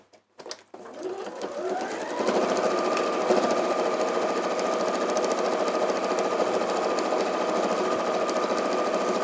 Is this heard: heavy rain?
no